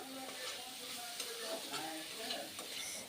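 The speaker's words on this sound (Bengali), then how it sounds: "লঙ্কা গুঁড়ো আর হলুদের গুঁড়ো দেওয়ার পর খুব ভালো করে এটাকে আমি আবার ভাজবো" Snails fry with chili powder and turmeric in a pan, giving a steady close sizzle with faint crackles and occasional light scraping from stirring, fairly quiet.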